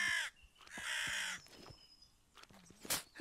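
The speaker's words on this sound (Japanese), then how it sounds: "カラスちゃん飛ばないでよ、それ。" A crow caws several times in the video game Jaws Of Extinction, each harsh call close and clear, separated by short quiet gaps.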